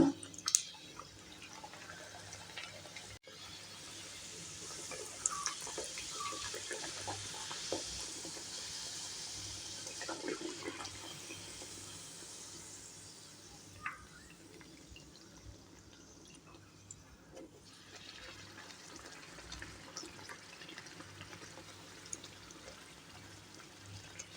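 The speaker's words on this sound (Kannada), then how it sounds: "ಎಣ್ಣೆ ಕೂಡ ಬಿಸಿಯಾಗಿದೆ. ಪೂರಿ ಹಾಕ್ತಾ ಇದ್ದೀನಿ ಇವಾಗ." Palak puri, spinach dough rounds, deep-fry in hot oil with a soft, steady sizzle and scattered small pops and drips, close but fairly quiet, easing off toward the end.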